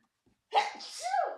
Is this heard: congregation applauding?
no